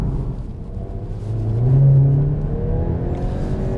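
A CUPRA Leon hatchback with a 300-horsepower front-drive engine pulls hard, its engine note rising in a swelling roar that peaks after about two seconds, then settles into a steady drone from inside the car.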